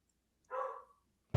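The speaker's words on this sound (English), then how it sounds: "whose dog is that?" A single dog bark sounds once, short and moderately close against a quiet background, followed by a brief sharp knock at the end.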